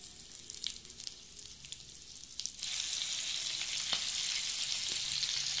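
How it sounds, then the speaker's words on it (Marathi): Two pieces of bangda mackerel hit hot oil in a pan; a faint crackle jumps partway through into a loud, steady sizzle with a couple of sharp pops, close by and without speech. "प्रथम आता आपण हे दोनच माशाचे पीस फ्राय करून घेणार आहोत"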